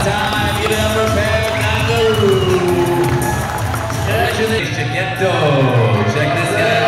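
A crowd at a pro skateboarding final cheers and shouts continuously and loudly, with an announcer's voice carrying over the noise throughout.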